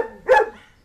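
A single short bark from a long-snouted female dog, sharp and close, with a faint whimpering tone before and after.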